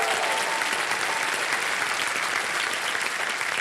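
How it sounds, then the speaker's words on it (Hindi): Steady, dense applause from a studio audience on the set of the quiz show Kaun Banega Crorepati, welcoming a contestant, holding at an even loud level throughout with no voices on top. "तालियां बज जाए इनके लिए"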